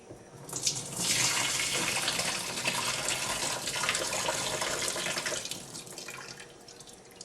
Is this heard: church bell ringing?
no